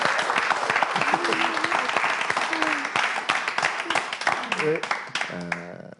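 A studio audience on a French game show claps steadily, a dense wash of applause that thins toward the end, with a voice speaking over it in the closing seconds.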